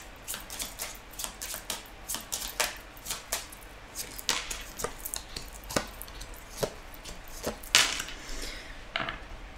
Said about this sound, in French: Alors, je vais recouvrir les cartes.